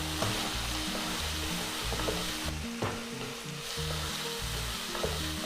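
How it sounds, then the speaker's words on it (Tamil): Onion, tomato, a piece of ginger and four garlic cloves sauté in a pan for paneer butter masala, sizzling steadily close up with repeated stirring and spoon scrapes throughout, no voices. "ஒரு 2 நிமிஷம் வெங்காயம் தக்காளியை நல்லா வதக்கிடலாம்."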